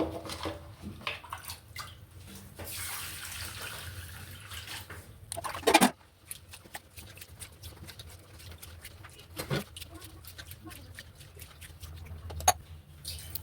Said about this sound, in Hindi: मैं अभी चावल को अच्छी तरीके से धो लूँगी